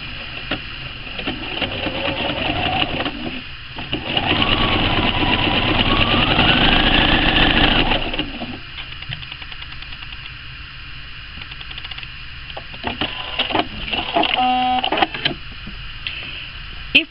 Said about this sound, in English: So let me stitch it out and see what it's going to look like.